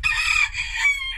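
A Cochin rooster crows loudly and close by, one sustained call lasting just over a second with a brief dip midway, with no talking over it.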